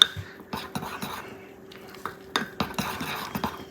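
Spoons scrape and clink against bowls while blue gluten-free cake batter is scooped, a string of quick, close, irregular metallic taps and scrapes.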